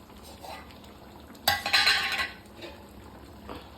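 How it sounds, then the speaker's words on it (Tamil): Ground coconut paste is added to a simmering tamarind curry of karunai kilangu (elephant foot yam). A quiet start gives way to a sharp burst of metal spoon scraping and clinking against the pot, followed by fainter stirring taps. "இப்போ இந்த நேரம் வந்து இந்த தேங்காயை போட்டுக்கோங்க"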